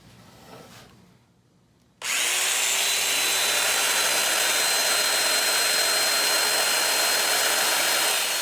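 A loud power tool starts abruptly after a brief quieter stretch, then runs steadily with a high whining, buzzing tone as it cuts mortises into a wooden sawhorse leg.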